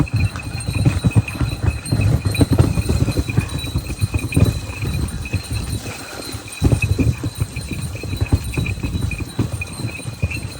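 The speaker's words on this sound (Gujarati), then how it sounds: "ઘરે બળદ ગાડું જોડીને નીકળી ગયા છે" A bullock cart pulled by bullocks on a farm track, with hooves clopping in a continuous uneven rhythm together with rattling and creaking from the cart, close and fairly loud with no talking.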